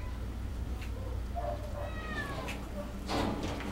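A Persian cat in a pet store gives a few short, high meows in the middle of the clip, close and moderately loud over a steady background hum.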